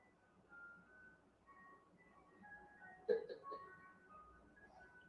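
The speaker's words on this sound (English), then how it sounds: "There's an ice cream truck in front of my house." An ice cream truck parked in front of a house plays its jingle, a faint, distant melody of steady tones drifting under quiet room noise, with one brief louder knock partway through.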